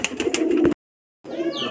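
Room tumbler pigeons, Rajshahi local birds, give a close, loud, throaty cooing burst, fall silent for half a second, then resume with another rolling coo, with no talking.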